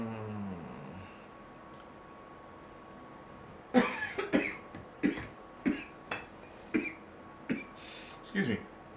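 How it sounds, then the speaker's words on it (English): A string of about eight separate coughs from one person, fairly close and moderately loud, spaced irregularly after a quiet start. "I was trying to get the water before I started coughing."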